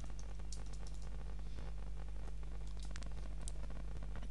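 Light, quick clicks of typing on a computer keyboard as a search term is entered, faint over a steady low hum.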